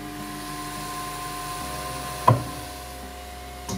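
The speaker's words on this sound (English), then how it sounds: "That's horrible sound when it's homing." A Cetus MK2 extended 3D printer whirring and humming steadily while homing, then a sharp knock as it hits a hard stop, followed by a grinding buzz and a second knock.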